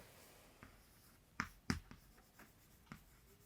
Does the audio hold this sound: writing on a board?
yes